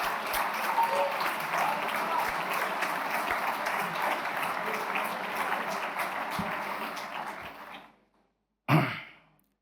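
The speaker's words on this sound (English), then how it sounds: "Give them a round of applause." Graduation ceremony audience at Les Roches Crans-Montana breaks into sustained applause from a large hall, a dense steady wash that fades out near the end, followed by a brief loud burst of sound.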